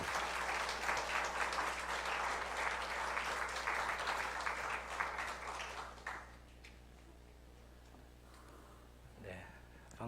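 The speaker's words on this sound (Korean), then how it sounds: "우리 큰 박수로 우리 간사님을 이렇게 모시도록 하겠습니다" A church congregation in Busan applauds as a guest speaker comes forward at Sunday worship. Full, even clapping lasts about six seconds, then fades into a low hum, and a voice begins speaking near the end.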